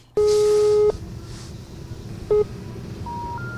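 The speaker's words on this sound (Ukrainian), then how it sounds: "Почув лише гудки." A telephone busy signal sounds in a long beep, then a short one, followed by a faint steady tone against a low background hum.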